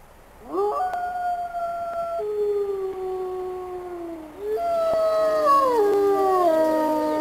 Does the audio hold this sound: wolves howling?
yes